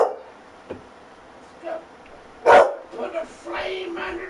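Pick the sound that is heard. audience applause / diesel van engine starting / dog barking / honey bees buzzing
dog barking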